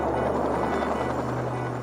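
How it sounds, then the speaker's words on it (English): A Fairey Rotodyne's rotor tip jets roar just before takeoff, a loud, steady broadband rush with a low droning hum underneath, heard alone. "The tip jets fired up just before takeoff."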